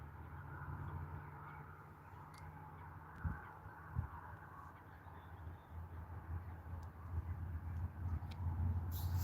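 Ducks call outdoors on a sunny day, a few brief, moderately loud quacks or honks rising over a steady, low outdoor background rumble.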